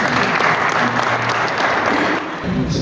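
An audience at a court of first instance ceremony in Taroudant honouring judges, retirees and staff claps steadily for an honoree, a dense burst of applause that fades slightly at the end.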